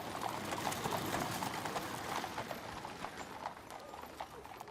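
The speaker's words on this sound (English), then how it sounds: "You then had the horses' hooves" Horses' hooves clip-clop steadily during a funeral procession outside Westminster Abbey, a dense, continuous patter of many hooves at moderate distance under broad crowd-free ambience, with no talk.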